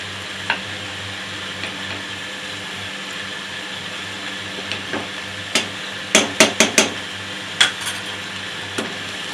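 Fried rice being stirred with ghee in a pan, a steady background hiss broken by sharp scraping clicks of a spoon against the pan, clustered in a quick run of knocks near the end.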